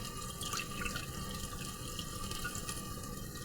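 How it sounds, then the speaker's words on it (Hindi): Water poured from a container into a pot of urad (mash) lentils for dhaba-style dal makes a steady, continuous splashing pour that lasts the whole moment without any talk. "दोस्तों, मैं इसमें 2 कप वाटर के ऐड करने लगी हूँ।"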